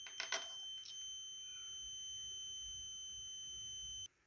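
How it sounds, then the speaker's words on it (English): A tiny buzzer powered by a multi-cell potato battery gives a steady, faint high-pitched electronic tone that starts after a few clicks, holds for about four seconds, and cuts off abruptly. "if this works, I should hear an audible buzzing"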